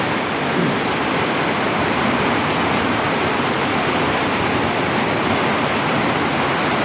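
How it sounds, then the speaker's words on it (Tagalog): Floodwater rushing and rising near a house during a flood, a loud, dense, unbroken roar of churning water that fills the whole stretch with no pauses and no voices. "Lumalakas na ang baha."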